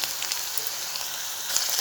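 Fenugreek leaves hit hot oil already holding cumin, mustard seeds, onion and green chili in a pan, giving a steady, fairly quiet hissing sizzle throughout with no voices.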